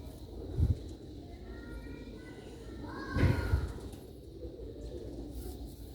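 Sialkoti pigeons coo in low, throaty bursts, one near the start and a longer run midway, over a steady murmur of background noise.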